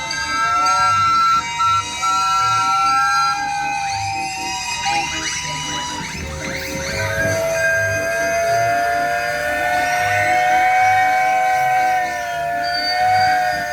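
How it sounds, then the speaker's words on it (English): Several steam engine whistles blow together at a steam rally, long sustained overlapping tones shifting in pitch over a steady low engine chuff, loud and continuous, with crowd murmur beneath. "if you feel like pulling on your whistles, that'd be great"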